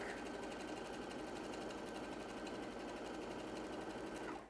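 A sewing machine with a long stitch length runs fast and continuously through fabric, close and loud, with a steady whirring rhythm that cuts off abruptly at the end.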